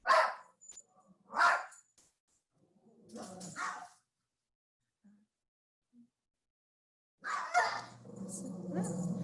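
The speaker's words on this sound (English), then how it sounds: "my dogs have started barking as expected" Several dogs bark in short bursts at home, two sharp barks at first, then a pause, then a louder cluster of barking near the end, with a voice and a low hum joining in.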